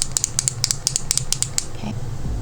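A twist-up NYX Fat Oil Slick Click shiny lip balm tube gives a rapid run of small sharp clicks close up, then a faint softer handling sound.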